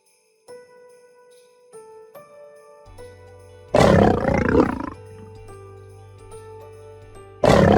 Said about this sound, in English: What sound does a lion make?